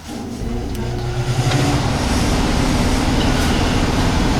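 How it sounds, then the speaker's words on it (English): A loud house furnace heater runs indoors with a steady, broad roar and low hum, its fan whooshing continuously and growing slightly louder at the start. "My house heater, I don't know if you can hear it, it's loud"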